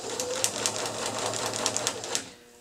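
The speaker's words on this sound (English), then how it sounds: "I have a needle down position on my machine, which I like to use while I'm sewing." A home sewing machine stitches in a steady, fast mechanical whir with light rhythmic ticks, running evenly before stopping abruptly near the end.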